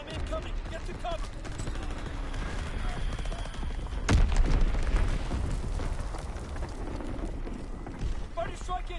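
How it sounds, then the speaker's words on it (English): Enemy artillery bombardment in the World War II shooter Call of Duty: WWII, with dense battlefield rumble, scattered gunfire and one loud close blast near the midpoint, while game voices and a player talk over it. "Incoming enemy artillery. Get to cover. Enemy bomb incoming."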